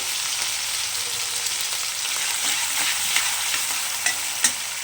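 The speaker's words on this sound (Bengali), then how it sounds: "এরপর এটাকে একদম লাল লাল করে ভেজে নেব" Minced garlic and chopped ginger sizzle steadily in hot oil while being stirred in a pan, a continuous close frying hiss broken by a few sharp scraping clicks of the spatula.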